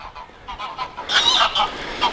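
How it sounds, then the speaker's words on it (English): A flock of geese calls by a lake edge lined with reeds, a string of rapid, fairly loud honks that crowd together and swell in the second half, close by and without speech. "If it's not cars, it's geese."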